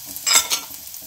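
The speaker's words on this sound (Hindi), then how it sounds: "चलो जी, अब मैं इसके अंदर शिमला मिर्च डाल देने लगी" Capsicum (bell pepper) pieces tipped into a pan of frying onions while making creamy chicken parcels, giving a brief burst of hiss and clatter that quickly fades to a soft, steady sizzle.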